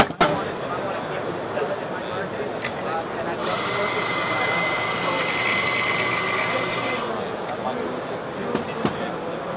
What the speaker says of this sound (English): I'll go ahead and do a shot for you so you can actually see how the system works